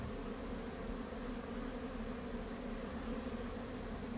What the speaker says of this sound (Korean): 꿀벌들도 멀리 가지 않고 가까이에 물이 있으면 가까이 있는 물을 먼저